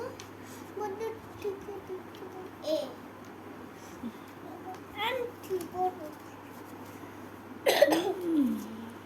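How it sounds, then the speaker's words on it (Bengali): A child coughs once sharply near the end, after children chatter and babble quietly through most of the stretch. "কাশি দেবার সময় মুখে মুখে হাত দিবা ওকে"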